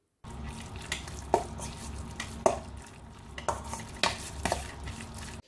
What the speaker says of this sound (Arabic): واقلب كل حاجة مع بعضها